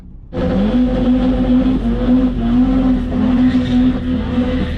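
A turbocharged 1.8T Mk2 VW GTI launches on a quarter-mile drag strip at Killarney. After a brief quiet moment its engine bursts into a loud, sustained roar that climbs and holds steady through the run, with no talking.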